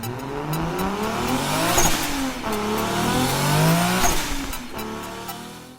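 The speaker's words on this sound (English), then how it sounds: "the car is starting and running now" A Lexus SC400 drift car fitted with LSA exhaust manifolds runs and revs, its engine note sweeping up and down in repeated rising and falling pulls, loud and close with no talking.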